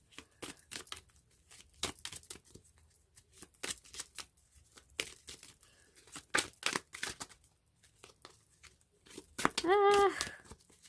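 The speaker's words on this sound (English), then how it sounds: "it is so awkward, you guys, to shuffle like this" Tarot cards are shuffled by hand in repeated crisp riffling bursts with papery flicks and short pauses between them. A voice speaks at times over the shuffling.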